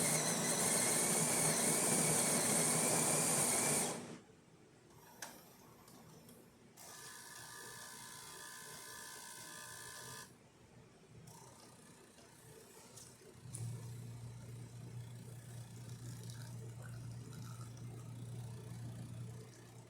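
A Jura E6 espresso machine, freshly serviced and deep-cleaned, brews a shot. A loud, dense grinding burst runs for about four seconds, then quieter mechanical clicks and whirring follow, and a steady low pump hum settles in near the end.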